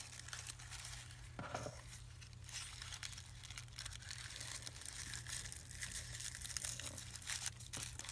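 Paper scrunched and crunched by hand into a flower embellishment for a junk journal, a steady close crinkling and crackling that runs throughout with a few sharper tearing-like bursts.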